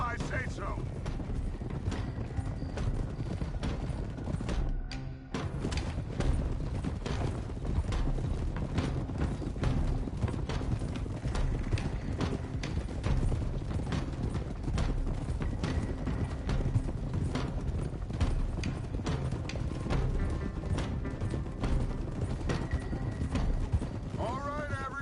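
Horse hooves clip-clop steadily through a long ride in the Western game Red Dead Redemption 2, with creaking tack, a brief pause near the fifth second, and voices talking over the hoofbeats.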